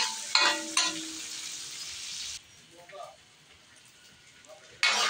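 Onion, garlic and tomato sautéing in a pan for ginisang monggo, a steady sizzle with a few clinks early on, then a quieter stretch before the frying noise swells again at the end, with someone talking.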